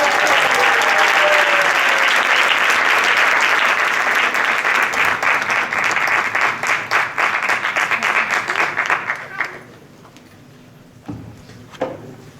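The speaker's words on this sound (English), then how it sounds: "please give a warm round of applause to Ananta Govindadas." An audience at an ISKCON kirtan event gives a long round of applause, loud and dense at first, thinning into scattered claps before fading out, with a few final claps at the end.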